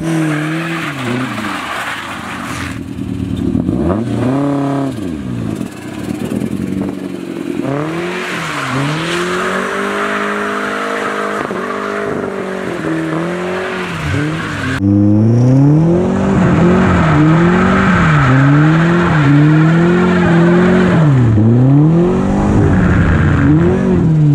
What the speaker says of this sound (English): first we're gonna try and rip some donuts with the spare tires, the Turbo Miata